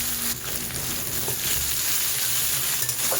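Chopped onions go into hot oil that already holds browned ginger and garlic, giving a dense, loud, continuous sizzle close by with no speech.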